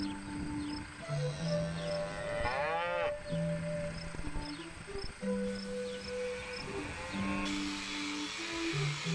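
Cattle on a beef and dairy farm near Ayr, Ontario, low out repeatedly, with several overlapping moos of varied pitch at close to mid distance and insects chirping faintly behind them.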